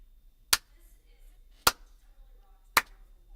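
Three slow, sharp hand claps spaced about a second apart, close and distinct over near silence.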